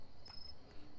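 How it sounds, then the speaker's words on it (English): Crickets chirp in short faint bursts against a low background hum, a thin steady insect trill running through the second. "I'd rather listen to these stupid fucking crickets"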